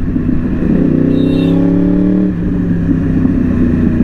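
A Yamaha R1 superbike engine revs loudly with the throttle, rising in pitch for about two seconds before dropping back to a steady, rumbling idle close by.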